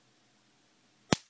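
A homemade Altoids-tin taser discharges its spark against metal: a single sharp, loud crack near the end, following near silence.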